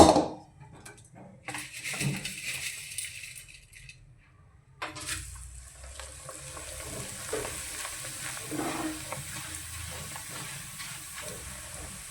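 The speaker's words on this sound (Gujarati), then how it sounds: "જો આપણે તેલ આવી ગયું છે તો હવે આપણે બધી વેફર તળી લઈશું" Potato wafers frying in hot oil for a Gujarati fasting chevdo, with steady close sizzling and bubbling, a few stirring scrapes, and a short break early on before the frying noise resumes and continues.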